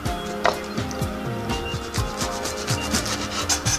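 A knife cuts through Swiss chard stalks, making repeated rough scraping and crunching strokes in a steady rhythm, close and fairly loud, with no talking.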